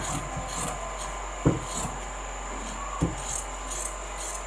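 Scissors or a blade cutting fabric for a bubu dress, a soft repeated rasping and rubbing with two brief louder snips, close by over a steady background hum.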